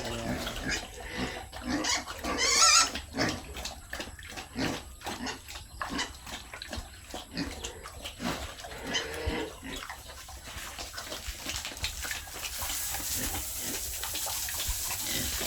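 Pigs on a rural farm eat leftover rice and food scraps, with a rapid, wet rhythm of slurping and chomping, grunts mixed in, and splashing water close by.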